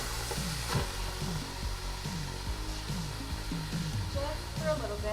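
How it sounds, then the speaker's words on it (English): Pork sears on saute in an Instant Pot, a steady close sizzle under a droning hum with faint tonal sweeps, continuous with a few clatters. "We're going to sear the meat."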